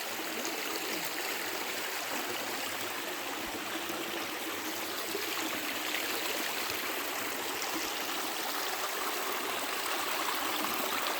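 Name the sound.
creek water flowing in the redwoods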